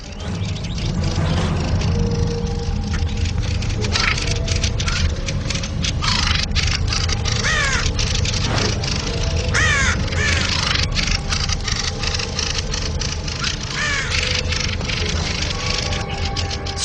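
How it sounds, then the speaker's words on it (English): Crows mob an intruding raven with a steady barrage of loud, harsh caws from several birds at once, close and continuous. "One of the birds squawks angrily and threatens the intruder."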